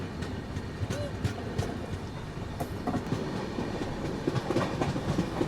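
Danapur Secunderabad Express rolling along, heard from inside a coach as a steady low rumble with faint rhythmic clatter of wheels over rail joints, soft and continuous with no talking.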